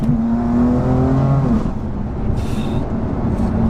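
A 700 bhp methanol-injected BMW M4 pulls hard along a road, its engine note rising steadily and loudly before easing off into a rougher burbling exhaust with scattered crackles.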